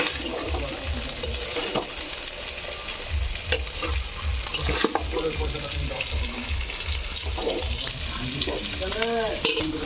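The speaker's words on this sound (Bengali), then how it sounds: "এবার আমি এটা গাওয়া ঘিটা দিয়ে ফ্রাইড রাইসটা ভালো করে নাড়াচাড়া" Fried rice with vegetables and ghee is stirred in a pan, giving a steady sizzle with repeated scraping and clinking of the spoon close up, alongside splashy watery sounds.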